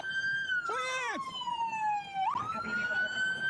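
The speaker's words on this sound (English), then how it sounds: "Still sirens." Police car siren wailing nearby, a loud sweeping tone sliding down then snapping back up, with a brief yelp burst near the start, heard over background noise.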